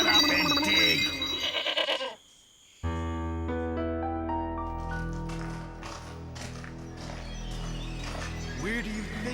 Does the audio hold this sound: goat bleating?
yes